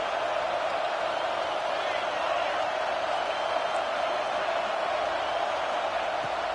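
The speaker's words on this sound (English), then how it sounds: "This crowd knows when to bring it." A stadium crowd at an FSU versus Oklahoma football game keeps up a steady, distant roar of cheering, continuous and even throughout under a game commentator's voice.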